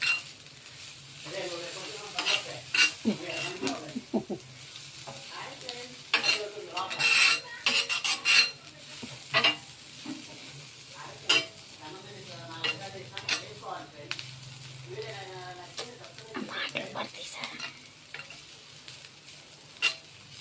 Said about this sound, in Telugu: ఇలాగ ఆనియన్స్ మొత్తం ఇట్లాగా బ్రౌన్ కలర్లో ఫ్రై చేసుకోవాలి